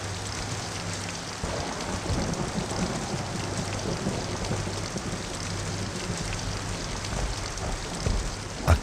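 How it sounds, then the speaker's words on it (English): Steady rain falls constantly across the whole stretch, an even dense hiss of drops with a low rumble underneath, ending in a brief louder knock. "As he sat, the rain fell constantly."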